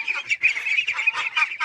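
A group of ducks, a mother with her ducklings, quack and honk close by in a rapid, overlapping chatter that keeps going throughout, with no talking.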